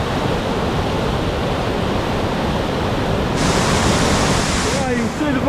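A huge volume of water rushes off a hillside in karst country in the Julian Alps, a loud, continuous broadband roar that stays close and steady throughout.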